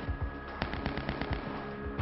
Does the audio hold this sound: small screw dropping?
no